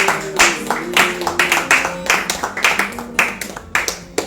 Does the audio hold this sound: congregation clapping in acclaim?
yes